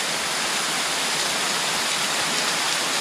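Steady rain falling, a dense even hiss that runs unbroken throughout, with no voices.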